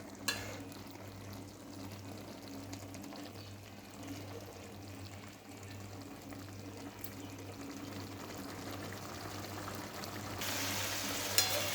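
Kachki fish chorchori fries in a pan as its water cooks off, a low continuous sizzle and bubbling with occasional stirring, close by and steady, growing a little brighter toward the end.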